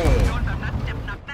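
A high-explosive shell striking a tank in the video game World of Tanks: a heavy, booming impact at the start, then a rumbling tail as a voice talks over the game audio.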